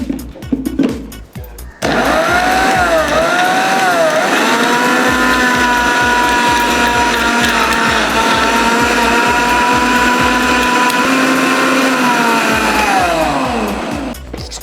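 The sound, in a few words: mixer grinder blending watermelon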